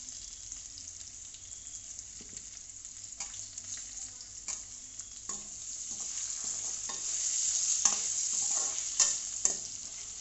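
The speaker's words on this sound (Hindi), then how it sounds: "हम अभी आलू को फ्राई करेंगे" Potatoes fry in a pan with a soft sizzle under scattered clicks and scrapes of stirring, fairly faint and steady, getting a little louder toward the end, no voices.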